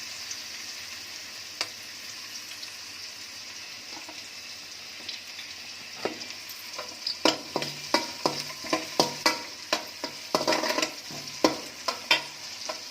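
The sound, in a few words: green chillies frying in oil for egg fried rice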